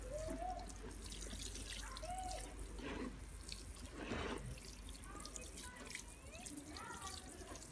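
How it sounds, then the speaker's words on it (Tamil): Water pours from a can or jug onto soil in a grow bag sown with coriander and fenugreek seeds, a close trickle with scattered drips; a voice speaks briefly over it. "ஃபுல் மண்ணுக்கும் வாட்டரிங் பண்ணிடலாம்"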